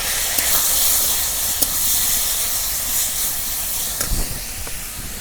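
Chopped tomatoes dropped into hot oil for a village-style Bengali boal fish curry, giving a steady loud hiss of sizzling with a few sharper spatters and pops along the way.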